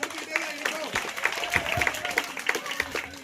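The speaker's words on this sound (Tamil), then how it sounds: "கைத்தட்டல் நல்லா கொடுங்க" Audience at a Tamil debate program claps, a steady patter of many hands with some sharper individual claps, moderately loud, while a voice talks over it.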